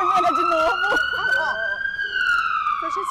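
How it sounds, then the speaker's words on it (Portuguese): A police car siren wails loudly and close by in steady rising and falling tones, while people talk over it. "Eu achei essa sirene é pra mim, tô devedora."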